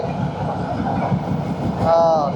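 The Dhumketu Express rumbles onto the Jamuna rail bridge, with a steady loud rolling clatter heard from inside the carriage and a rising metallic squeal near the end.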